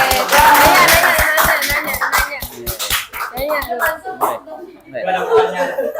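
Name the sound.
class applauding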